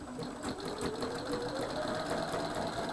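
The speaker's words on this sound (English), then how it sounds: "And again, I'm sewing from the outside edge to the inside." A sewing machine stitches quilt fabric from the outside edge inward, a steady rapid whirring run at moderate, slightly soft level with no talking.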